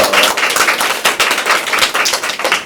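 Audience at a university student presentation on AI judgment bursts into dense, steady applause, many hands clapping close and loud throughout with no one speaking.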